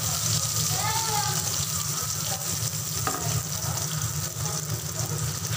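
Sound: onions and green chillies frying in hot oil

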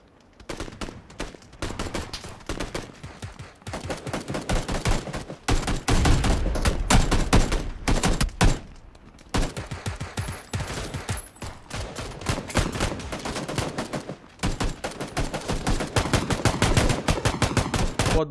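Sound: gunfire in the video game PUBG

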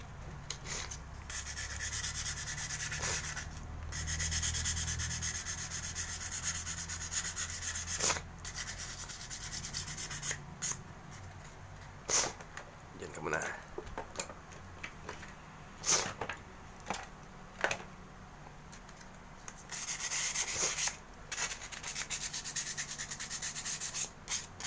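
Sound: sanding rust off tools with sandpaper

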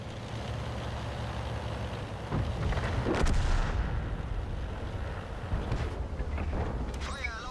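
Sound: tank cannon fire in World of Tanks video game

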